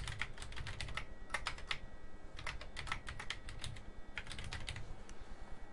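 A password is typed on a computer keyboard in quick bursts of close, crisp key clicks separated by short pauses, with a quiet background hum and no talking.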